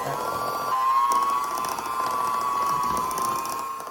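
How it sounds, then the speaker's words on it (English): A small electric hand mixer labours through thick ricotta cookie dough, giving a steady, strained motor whine close by that wavers slightly in pitch as the load changes. "Oh, my little hand mixer is not liking it."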